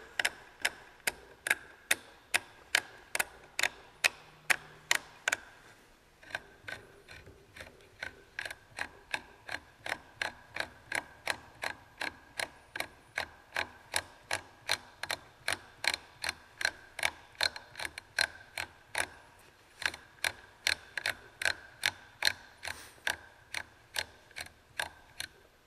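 An A2 rear sight is threaded down onto a rifle receiver, giving a long, steady run of crisp metallic ticks about two per second, close and clear with no talk.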